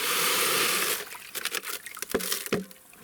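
Three kilograms of granular calcium nitrate fertilizer for a vineyard feeding are tipped into a bucket: a steady rushing hiss of pouring granules for about a second, then scattered crinkles and light taps as it settles, close and quiet.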